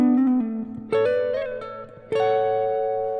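Electric guitar playing a slow neo soul lick built on double stops, a few sustained two-note chords with smooth legato slides between them, clean tone and close, with no talking.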